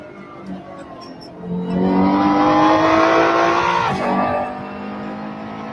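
A race car laps the Nürburgring Nordschleife in Assetto Corsa Competizione, its engine loud and close, revving higher in a sustained climb, briefly dipping at a gear change, then settling into a steady drone.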